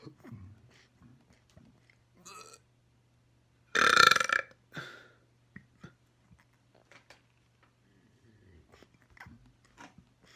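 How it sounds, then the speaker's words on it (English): Loud, long belches in a burping session, one big burp standing out among smaller grunts and mouth noises, isolated against near silence. "I'm back today with more burps"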